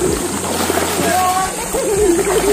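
A Tecno Camon 40 series phone rinsed under running water after being buried in sand, a steady close splashing wash that runs throughout, with a voice speaking over it.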